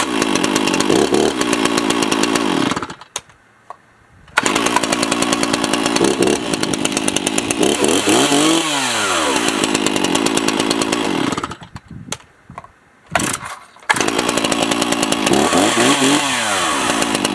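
A 60cc Farm Boss chainsaw, a G366 clone of the Stihl MS361 with a 20-inch bar, runs loud and close, revving up and down, dropping to idle briefly twice before roaring again.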